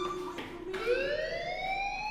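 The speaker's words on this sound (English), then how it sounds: "do you hear that fire alarm?" A fire alarm in the video game Life is Strange wails with a rising, siren-like electronic tone that climbs in pitch and holds steady, loud and continuous, with no speech.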